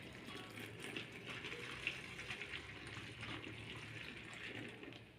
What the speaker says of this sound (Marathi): त्याच भांड्याने एक भांडं इथे पाणी मी याच्यामध्ये घालून घेत आहे